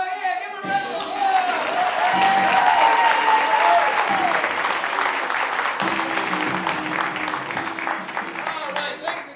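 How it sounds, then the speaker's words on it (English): A crowd at an improv comedy show breaks into steady, full applause that runs the whole length, with a voice and a bit of cheering over the start and some scattered thumps near the end. "give them a round of applause"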